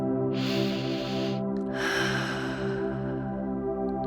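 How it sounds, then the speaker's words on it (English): Deep breaths before a cozy bedtime story: two long, airy breaths, the second slightly longer, heard close over a steady soft musical drone. "Take a few deep breaths."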